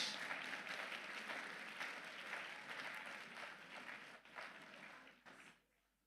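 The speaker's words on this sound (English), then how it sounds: "Let's give our staff a round of applause as they exit the stage" Audience applause for staff leaving the stage at a ceremony, a steady dense clapping crowd that thins out and dies away at the end.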